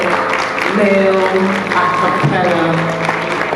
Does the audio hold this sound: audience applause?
yes